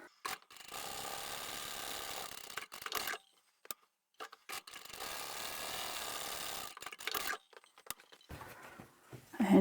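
A sewing machine runs long bursts of top stitching through fabric at stitch length 4, in two sustained mechanical runs separated by short stops and brief clicks, close and steady, with no talking.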